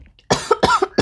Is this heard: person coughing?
yes